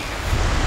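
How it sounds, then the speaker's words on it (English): Strong wind gusting across a beach at North Bend, Virginia, a loud, steady roar of buffeting air against the microphone with surf churning underneath, no voices. "It's really windy. It's almost like a storm is threatening."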